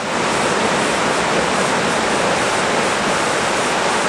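The small waterfall at Lepreau Falls, New Brunswick, roars in a loud, unbroken rush of falling water that stays steady throughout, with no other sounds.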